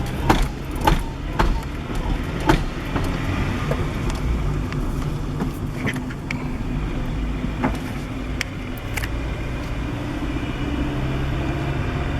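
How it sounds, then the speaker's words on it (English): A 1998 Acura Integra accelerating in second gear with a bucking, jerking fault, heard from inside as a steady engine and road drone with a few sharp knocks and clunks early on. "So I'm in second, just accelerating, going straight."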